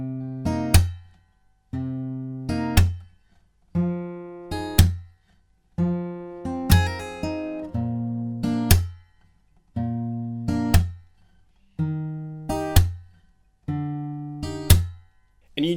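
Fingerpicked guitar riff from a song, played alone with plucked chords and percussive slaps repeating in a steady rhythmic cycle, each phrase ringing out and then decaying, close and clear.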